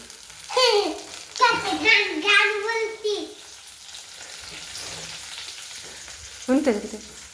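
Curry leaves hit hot oil for a poha tempering, giving a steady low sizzle while voices speak loudly over it in short bursts, then fall quiet before one more brief utterance near the end.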